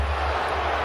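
A basketball arena crowd at a Rockets at Grizzlies NBA game gives a brief, steady, dense roar of many voices.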